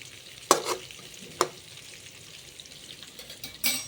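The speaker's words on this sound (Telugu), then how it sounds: "బాగా ఆ వంకాయలను ఆయిల్ పట్టేంత వరకు ఇలా కలుపుతూ ఉండాలి." Stuffed eggplants being stirred as they fry in oil, with a couple of sharp scraping clatters from the utensil over a low, steady background sizzle, nearby and moderately loud.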